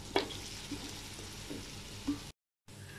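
Pumpkin pieces tipped into hot masala in a pan give a close, steady sizzle of frying, with a few soft stirring clatters over about two seconds before a brief dropout.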